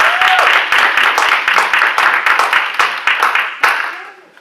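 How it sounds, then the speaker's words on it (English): Audience applause at an anniversary commemoration of the Tallahassee Bus Boycott, a dense crowd clapping steadily and loudly for about four seconds, gradually thinning toward the end. "let's give them a well-deserved round of applause"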